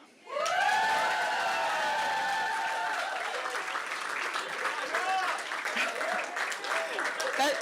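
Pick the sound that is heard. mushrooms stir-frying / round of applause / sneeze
round of applause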